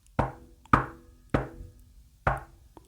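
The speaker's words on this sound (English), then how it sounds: "and knocked on the door." Four hard knocks on a wooden door in a quiet room, spaced unevenly with short decaying thuds, close and clear with no voices.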